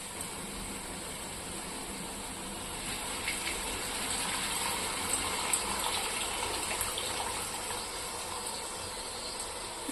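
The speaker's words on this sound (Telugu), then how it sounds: "ఆ పులుసు పోసుకుందామండి" Tamarind juice poured into a pan of fish curry (konam fish pulusu), a steady liquid pour with a faint ratcheting, mechanical texture running throughout, close and fairly quiet, without speech.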